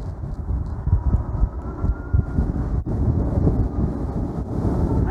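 Wind buffets the microphone on a cold, blustery day during a RadRunner Plus e-bike ride, a loud continuous low rumble with gusty surges and no talking.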